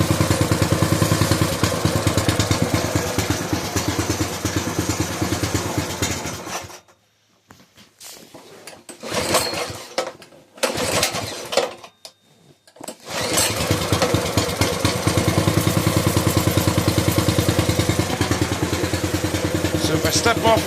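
A Coleman minibike's small engine runs loud and steady, drops out briefly mid-way with a few sputtering bursts, then picks back up to a continuous rattling drone.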